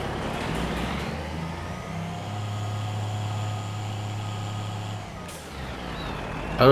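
Truck pulling a grain trailer in the video game Farming Simulator 25, a steady low engine drone with a tonal whine, then a hiss like an air brake release near the end.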